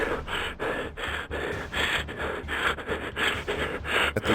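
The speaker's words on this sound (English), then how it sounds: "And to suffer this heavy breathing" Heavy, ragged breathing from a character in the horror video game Dying: Reborn, with rhythmic gasping and snorting breaths repeating close up over a low ambient background, with no talking.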